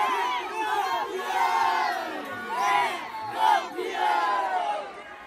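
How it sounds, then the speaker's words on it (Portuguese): A football crowd chants that the player is champion, a sustained wash of massed voices rising and falling in melodic waves, sounding loud but slightly distant. "torcida já tá gritando é campeão lá!"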